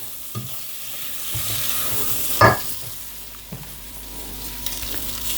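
A spoon stirs rice and seasonings in a cooking pot, soft scraping and shuffling over a light frying sizzle, with one sharp louder scrape partway through.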